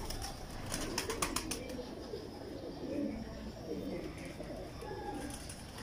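Pigeons coo softly in a loft, low repeated throaty burbles running under a faint background, with a brief flutter of wings early on.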